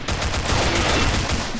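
A TAR-21 rifle fires in a rapid, loud, continuous automatic burst in the video game Combat Arms.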